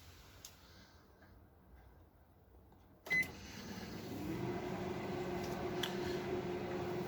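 A microwave oven reheating a cup of coffee switches on partway through with a click and beep, then runs with a steady low hum close by, no talking.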